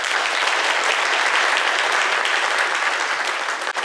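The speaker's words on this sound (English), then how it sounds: "a round of applause" Audience applause at an Adaptation By Design symposium during MOD Weekend 2024: dense, steady clapping from a full room, loud and sustained throughout, tapering slightly at the very end, with no talk over it.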